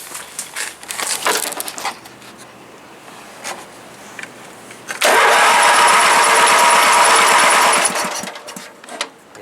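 A 1984 Wheel Horse garden tractor's small engine sputters unevenly, then catches and runs at a loud, steady, rattling speed for a few seconds before easing off, close to the listener.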